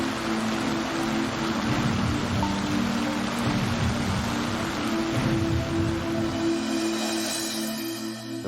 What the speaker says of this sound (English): You throw in that kind of torrential rain, then you're dealing with an impossible situation.